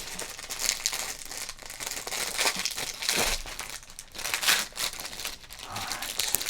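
Crinkly wrapper of a 1988 Topps card pack being handled and torn open, with close, continuous rustling and sharp crackling bursts, loud throughout with no talk.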